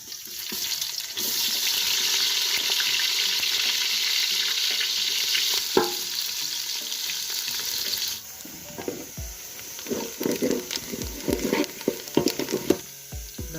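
Onions go into a pot of boiled meat and fry with a steady loud sizzle for several seconds, then the hiss drops and uneven stirring scrapes and clatters of a spoon against the pot take over.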